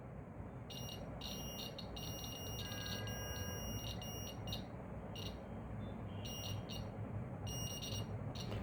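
A homemade mini laser alarm's buzzer beeps in bursts of high-pitched tones over a steady electronic hiss, the pulses repeating irregularly and fairly close.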